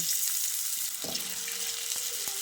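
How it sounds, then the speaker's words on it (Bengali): Cut potatoes hit hot mustard oil in a wok for a vegetarian drumstick dish, setting off a steady, loud hiss of frying, with a few faint spoon or pan clicks near the end and no talking. "তারপর তেলটা ভালোভাবে গরম হয়ে এলে এর মধ্যে কেটে ধুয়ে রাখা আলুগুলোকে দিয়ে দিচ্ছি।"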